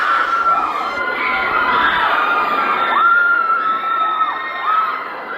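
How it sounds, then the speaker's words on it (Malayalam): Excited children shouting and cheering at a champions trophy handover, a loud sustained crowd roar with high rising whoops and applause mixed in, carrying on without letup. "ചാമ്പ്യൻസ് ട്രോഫി കൈമാറുമ്പോൾ കണ്ട കുട്ടികളുടെ ഒരു ആവേശവും പിന്നെ കാണികളുടെ കയ്യടിയും ഒരു ആരവം തന്നെയാണ് കേട്ടോ"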